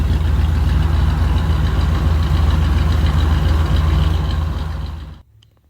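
A deep, rumbling 301 V8 engine idles steadily with a throaty exhaust note, loud and close, then cuts off abruptly near the end.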